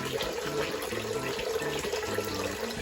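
A pond filter pump pushing out water, a strong continuous splashing gush of running water, close and steady throughout with no talk.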